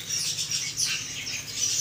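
Songbirds at a bird-selling kiosk in a fruit market chirp and tweet continuously, several high bright calls overlapping at close range, with no talk.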